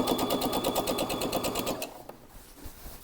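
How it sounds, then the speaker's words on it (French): A sewing machine stitches a trouser seam at a fast, even pace for under two seconds, then stops, leaving faint handling noise. "Là où je vais commencer ma couture. Je mets un point d'arrêt."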